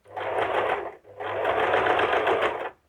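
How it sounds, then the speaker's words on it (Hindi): A sewing machine stitches a princess-cut blouse in two close, steady runs of rapid mechanical whirring, broken by a brief pause near the middle. "और ये 2 इंच तक यहाँ बराबर फिटिंग की सिलाई लगा दें"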